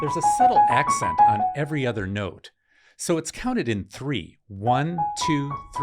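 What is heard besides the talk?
No distinct noise like a dog, phone or traffic.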